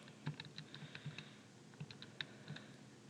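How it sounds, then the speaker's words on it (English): Calculator keys are tapped in quick, irregular bursts of faint, close clicks while numbers are entered, with short pauses between presses and no talking. "when I type that in my calculator"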